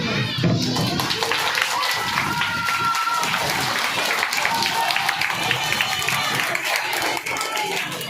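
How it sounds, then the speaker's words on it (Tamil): A crowd at a cleanliness awareness programme claps and applauds steadily throughout, lively and dense, with some voices mixed in. "அவர்களுக்கு ஒரு கரகோஷம்."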